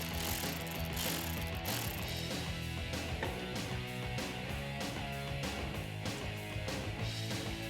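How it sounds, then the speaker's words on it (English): Ratchet wrench with an 8mm socket loosening the negative battery terminal on a 2005-2019 Ford Mustang, quiet repeated clicking strokes in an irregular rhythm, faint and close, with no talking. "I have an 8mm socket here, and I'm going to go ahead and remove the negative side."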